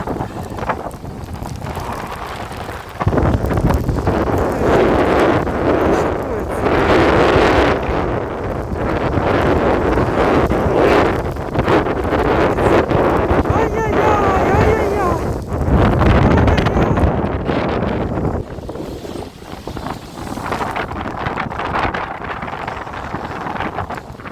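Strong stormy winter wind buffets the microphone on the Odesa seafront amid rain and snow, a loud roaring rush that surges and eases for most of the stretch, with someone speaking beneath it at times.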